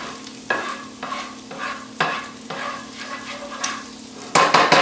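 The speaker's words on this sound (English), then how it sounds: "So let's sizzle here for a minute." Garlic sautés in a hot pan with crackling sizzle, punctuated by roughly eight distinct stirring scrapes at a steady, unhurried rhythm, close and fairly loud with no talking.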